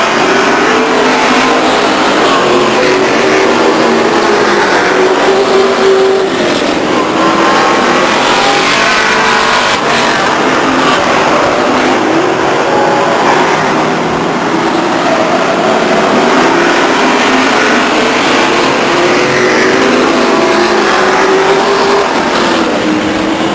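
Stock cars race at Stockton 99 Speedway, a steady, loud roar of several engines revving and droning past with rising and falling pitch, continuous throughout with no speech.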